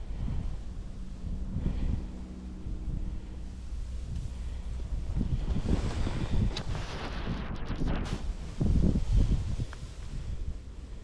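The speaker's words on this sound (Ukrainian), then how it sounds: "Вітер такий." Gusty wind buffets the microphone outdoors while fishing in November, a low rumbling roar that rises and falls over several seconds, with faint rustling.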